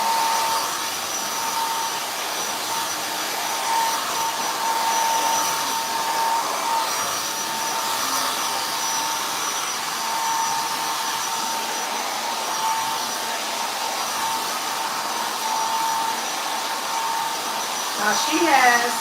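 Hair dryer blow-drying hair in a salon styling session, a loud continuous steady roar running throughout with slight shifts as it moves, close and with no talk over it.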